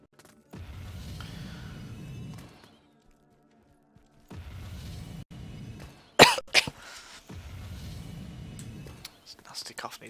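A person coughs and clears their throat in several rough, low bursts spread over about ten seconds, close to the microphone, with a sudden loud bang partway through.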